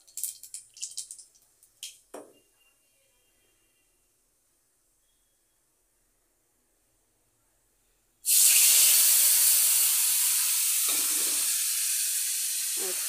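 Water poured into hot oil in a kadai with kalonji seeds and spices, erupting into a loud, sudden hissing sizzle that slowly eases, after a few brief clinks and a long quiet stretch.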